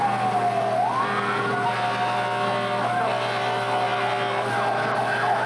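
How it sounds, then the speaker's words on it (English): Fire truck sirens wail at a 1990 Christmas parade in Berkley, rising and falling in overlapping sweeps over a steady engine drone, continuous and moderately loud, with no talk. "And the sirens are really loud out here."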